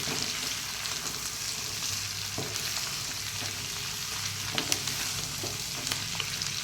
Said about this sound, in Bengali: এ দেখো পেঁয়াজটা একটু একটু মতো ভাজছি